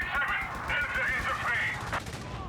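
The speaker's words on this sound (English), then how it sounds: "Marching down the middle, but the machine gun's right there." Rapid machine gun fire rattles continuously in a Company of Heroes 3 1v1 match, a dense burst of battle noise with a commentator talking over it.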